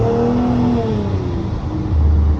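A car accelerates to overtake, its engine drone rising in pitch as it pulls past, loud and close and heard from inside the vehicle, with no talk.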